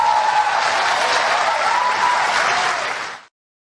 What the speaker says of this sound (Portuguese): Barroso sendo aplaudido aí pela juventude universitária que se dispôs a ouvi-lo